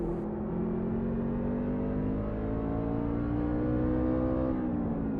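A NASCAR Craftsman Truck Series truck engine in iRacing at Martinsville Speedway, revving steadily on throttle with a smooth sustained drone whose pitch climbs slowly, close and loud, with no talking.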